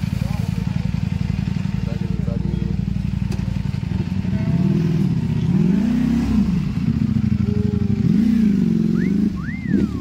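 A Ducati superbike engine throbs in a loud, rapid low rumble at close range, and someone talks over it for the second half.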